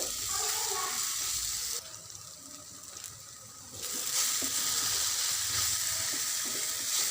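Banana pieces sauté in ghee in a pan, with a bright, close sizzle that drops to a quieter hiss for a couple of seconds midway before swelling back to full strength.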